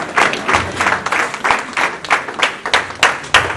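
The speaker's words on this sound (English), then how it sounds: "let's go on our feet and clap our hands for the Lord" A church congregation claps its hands in a loud, steady rhythm, many palms striking together on each beat over a faint murmur of voices.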